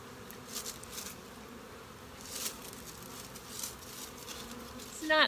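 Honey bees buzzing around a beehive entrance, a steady low insect hum throughout with occasional louder passes close by, and a brief sharper buzz near the end.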